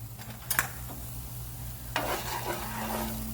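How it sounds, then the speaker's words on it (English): Onions, bell peppers, celery and minced garlic stirred in a pan, a steady soft sizzle with a scrape of the spoon, then a louder burst of frying as the vegetables are moved, close and without talk. "stir it up a tad"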